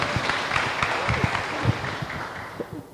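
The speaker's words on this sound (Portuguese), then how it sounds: "Salva de palmas para elas." A church women's service audience claps in applause, a loud, uneven patter of many hands filling the room, close and continuous without voices.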